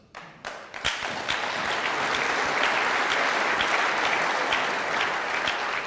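Audience applause at the Neues Hambacher Fest 2019 opening speech, starting with a few scattered claps and quickly building into sustained, dense crowd clapping that holds steady to the end.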